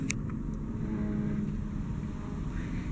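Steady wash of freeway traffic on I-5 heard from a hotel room overlooking a parking lot, a continuous low broadband rumble with no distinct passes standing out.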